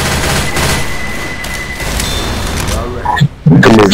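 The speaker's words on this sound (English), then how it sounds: "Throwing a pipe bomb!" Pipe bomb detonation amid gunfire in Left 4 Dead 2's The Passing campaign on Expert Realism, a dense continuous fusillade of shots with a sharp burst near the end, close and loud under steady in-game voices.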